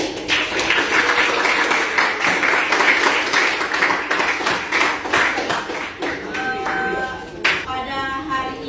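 A class of about thirty students applauds in a classroom, dense continuous hand clapping that thins toward the end, where a voice briefly speaks.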